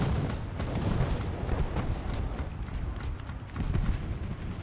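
Dense, rumbling booms and heavy gunfire in a continuous loud barrage, a T-72B3 tank cannon firing in War Thunder.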